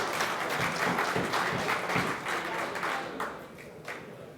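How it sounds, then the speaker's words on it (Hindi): Sustained applause from an audience at a poetry gathering, dense clapping that holds steady and then gradually thins out toward the end. "भरपूर तालियाँ जनाब सदफ़ फरीदी साहब के लिए।"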